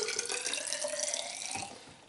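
Homemade mead pours into a tall hydrometer test jar, a close, steady liquid trickle and splash that fades out as the jar fills to the brim.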